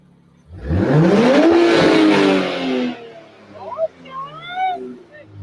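A bagged Nissan Z's engine revs up loud and close, its pitch climbing and then holding before it eases off and fades, after which softer chirping sounds and background voices take over.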